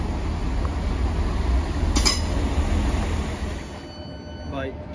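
Train pulling into Clifton Down station in Bristol, a low steady rumble of wagons with a brief clink and a faint wheel squeal near the end, heard close on the platform amid a voice.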